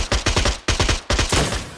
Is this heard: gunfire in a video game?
yes